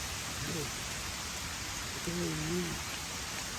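Heavy rain in a video game, a dense steady hiss of downpour filling the scene at constant level, with someone briefly speaking over it.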